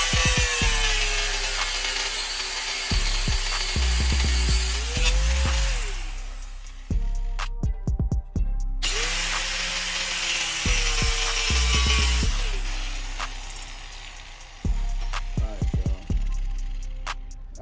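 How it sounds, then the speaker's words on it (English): Angle grinder with a worn wheel grinding metal on an engine project, a loud harsh whine in two long bursts with dips and pitch sags as it bites, brief stops and clatter between. "I done did enough with this grinder, with this wheel."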